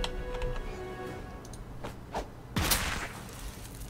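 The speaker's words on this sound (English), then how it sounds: "You can use your snapping pops to ignite things like fireworks." In the South Park: The Fractured But Whole video game, snapping pops set off fireworks: scattered small cracks and ticks give way to a sharp fizzing whoosh and burst, fairly faint overall.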